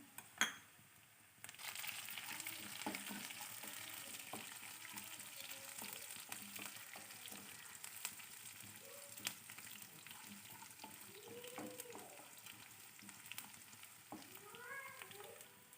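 Finely chopped green chillies sizzle steadily in hot oil in a pan for hotel-style poori curry, a continuous close frying hiss with occasional light stirring clinks.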